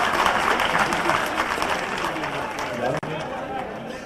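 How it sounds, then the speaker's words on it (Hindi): An audience at a mushaira in Delhi breaks into loud, sustained applause, a dense wash of clapping from a large crowd with faint chatter mixed in. "जोरदार तालियां, ताकि ये लगे कि माइनॉरिटी भी माइनॉरिटी का स्वागत करती है।"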